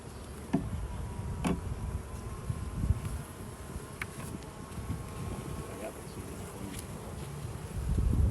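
Honeybees buzz in a steady, moderate drone during a hive inspection, with faint broadband hum and occasional soft clicks or handling noises throughout, no talking.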